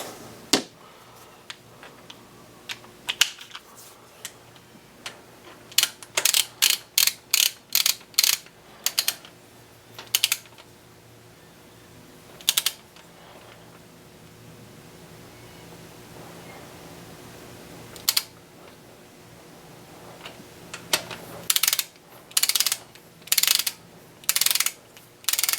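A ratchet wrench tightens bolts on the Vanos unit of a 2004 BMW 325xi engine, quick close runs of clicking ratchet strokes in clusters, separated by quiet stretches of faint background hiss.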